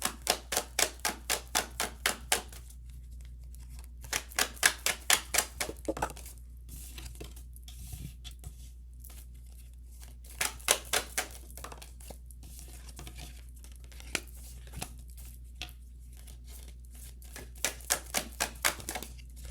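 Tarot cards riffle in repeated bursts of rapid crisp flicks, several quick shuffles separated by short pauses, close up with a low hum beneath.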